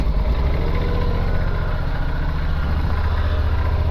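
Steady, loud idle of a Yamaha Super Tenere motorcycle engine, close by, with a constant low rumble and no talk.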